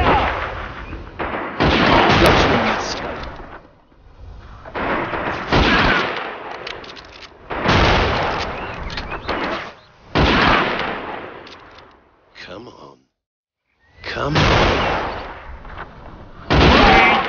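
Gunfire and artillery from the video game Men of War: Assault Squad 2 in a British mission: loud repeated bursts of shots and blasts in clusters, with a short silent gap near the end.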